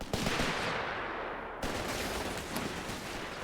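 Sustained machine gun fire in Company of Heroes 3, a dense rattling burst that runs continuously for several seconds, loud and close, with a brief break before firing resumes.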